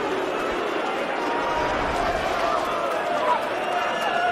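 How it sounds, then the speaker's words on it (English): Darts arena crowd during a Premier League semi-final, a broad steady murmur of disappointment from the audience with a commentator talking over it throughout. "you'll hear the crowd in the background disappointed"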